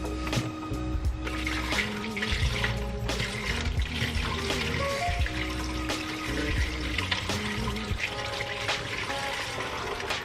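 Coolant gushes and spills over while a BMW cooling system is filled by hand, a steady close splashing pour with clinks and knocks of tools and containers throughout.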